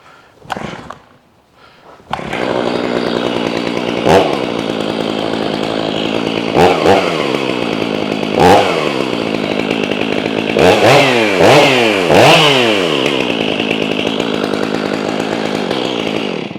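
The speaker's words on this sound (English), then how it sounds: "Before I go anywhere, I always start my saws." A chainsaw fitted with a 36-inch bar is pulled into life, then runs loud and close, its steady roar broken by several sharp throttle blips, with no talking.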